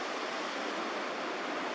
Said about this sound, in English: We reached the Pentridge River and began to see the fast-flowing water through the trees.